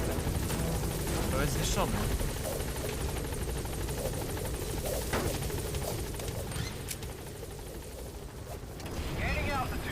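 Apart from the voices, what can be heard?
helicopter in the video game Metal Gear Solid V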